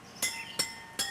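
Three evenly spaced bright metallic pings ring out as tight spokes on a hand-built bicycle wheel are tapped one after another, each note clear and close.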